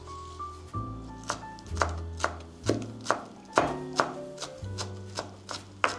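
A knife chops parsley stems finely on a cutting board in a home kitchen, making a series of irregular, close, crisp taps under soft background music.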